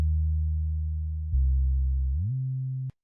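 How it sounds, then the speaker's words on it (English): Synthesized sub bass from an electronic music track: a pure, loud low sine tone that holds steady, steps to a new pitch, glides upward and then cuts off abruptly, alone without any other instruments. "Some sub bass down here."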